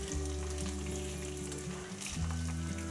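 Urad dal frying in hot oil for amla pickle makes a steady, close, dense sizzle with a low steady hum underneath.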